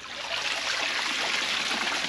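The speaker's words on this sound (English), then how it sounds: "Let the water drain." Water drains steadily from a batch of cooked food just flipped in a kitchen, a continuous close hiss and trickle with no break and no talking.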